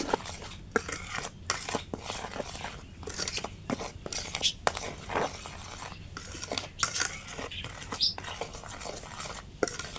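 Palm pitha batter with sugar and salt is mixed in a bowl, close wet scraping and clinking strokes in an irregular rhythm, with a soft voice now and then.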